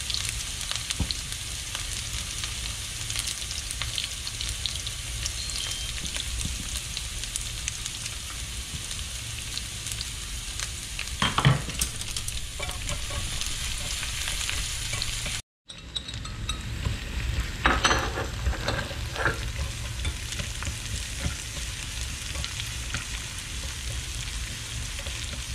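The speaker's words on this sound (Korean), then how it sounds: "마늘하고 생강 채친 거 넣을게요. 고추, 베트남 고추 5개." Shredded garlic, ginger and five Vietnamese chilies stir-fry in hot oil with a steady, close sizzle and crackle, broken by a few stirring scrapes and one brief cut to silence partway through.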